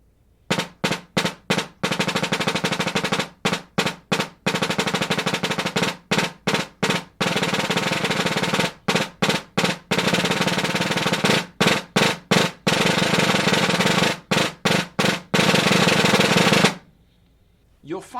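Concert snare drum roll exercise played hand to hand, dense buzzing roll bursts in repeated phrases separated by short gaps, loud and close, ending in quiet.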